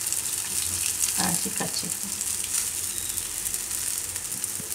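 Bottle gourd (dudhi) tikki frying in a pan give a steady, close sizzle throughout, with a few soft scraping touches near the start and a brief voice speaking over it.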